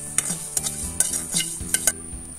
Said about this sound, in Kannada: ಇವೆಲ್ಲವನ್ನು ನಾನು ಎಣ್ಣೆ ಹಾಕದೆ ಹುರ್ಕೊಂತಾ ಇದ್ದೇನೆ